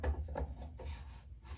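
Lathering shaving soap with a 26 mm badger shaving brush on an all-aluminum handle, making soft rhythmic wet swishing and rubbing strokes that repeat steadily and close.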